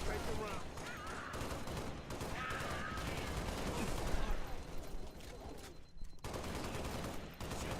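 Sustained gunfire from Halo: Reach combat, a dense, continuous barrage of rapid shots and impacts layered with game noise, running loud for nearly the whole stretch with a brief lull near the end.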